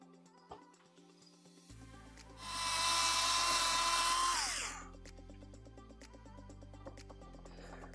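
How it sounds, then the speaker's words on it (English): A slow, high-torque power drill whines up loudly for about two seconds driving into a Chevrolet Camaro ZL1 1LE front bumper, its pitch dropping as it slows and stops, amid quieter workshop hum and clicks. "I'm using a slow, high torque drill gun"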